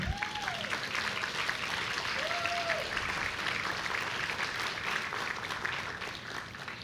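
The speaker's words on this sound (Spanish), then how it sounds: "¿Le da un aplauso al Señor?" A church congregation applauds, a sustained, fairly soft wash of many hands clapping in a large room, with a brief voice heard near the start.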